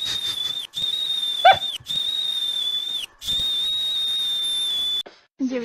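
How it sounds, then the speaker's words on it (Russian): A steady high whistle tone repeats in four long sustained blasts separated by short gaps, loud and alone, with a brief different squeak near the end. "Если ночью вы слышите свист у своей двери"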